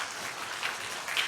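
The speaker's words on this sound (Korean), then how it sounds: "우리 박수로 한번 격려해 주시기 바랍니다" Brief, soft applause from a church congregation for a departing member at a Sunday service, a thin wash of clapping heard from a distance.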